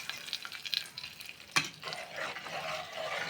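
Mashed palak keerai (spinach) kadaiyal mixture being stirred in a pot, with soft scraping and sloshing strokes, a sharp clink near the middle and a low, steady cooking hiss throughout.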